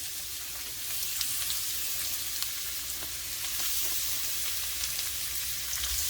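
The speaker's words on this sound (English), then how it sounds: "And what we're gonna do with the shrimp, we're gonna add it right in there" About 1.5 pounds of Cajun shrimp sizzle in a hot pan, a steady close hiss and crackle running the whole time with small spatters, no talking.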